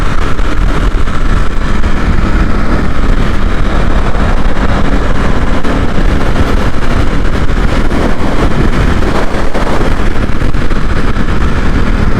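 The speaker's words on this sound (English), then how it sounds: "Little bit windy." Loud, constant wind buffeting the microphone while riding a Ducati Supersport S on a motorway, a dense roar that drowns out everything else for the whole stretch.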